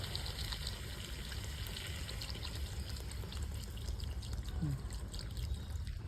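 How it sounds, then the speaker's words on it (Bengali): Water is poured into a pan of frying liver curry after the oil has separated, giving a steady, fairly loud rush and trickle of liquid that lasts the whole stretch over a constant hiss. "এবার তেলটা ছেড়ে দিয়েছে কষাও হয়ে গেল এবার আমি জল দিয়ে দেবো"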